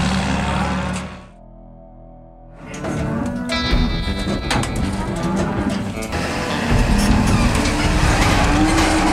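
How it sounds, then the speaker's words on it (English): Livestock trailers pull away one after another, hauling calves to town: a steady engine rumble and road noise, with cattle lowing faintly in the mix after a brief lull near the start. "Trailers are departing one by one and hauling the calves to town."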